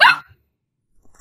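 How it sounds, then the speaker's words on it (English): A dog gives one short sharp bark up close, followed by near silence and a faint trailing sound. "I've always wanted a dog."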